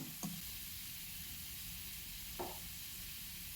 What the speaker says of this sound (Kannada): ಈರುಳ್ಳಿ ಸ್ವಲ್ಪ ಚೆನ್ನಾಗಿ ಬಾಡಬೇಕು, ಅಷ್ಟರವರೆಗೆ ಚೆನ್ನಾಗಿ ಹುರ್ಕೋಬೇಕು